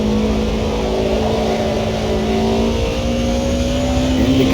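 Race car engine accelerating steadily at Watkins Glen in a racing game, a loud continuous drone with rising pitch and no voices over it.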